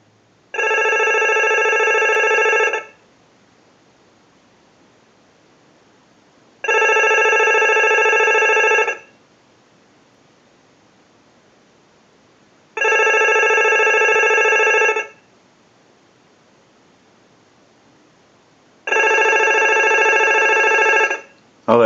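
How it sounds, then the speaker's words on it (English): Mickey Mouse novelty telephone ringing on a bench during repair, driven by a line analyzer's ring cycle: four loud, steady electronic ring bursts of about two seconds each, separated by roughly four-second silences, with no talking. "use the analyzer and send a ring cycle like you were getting a call"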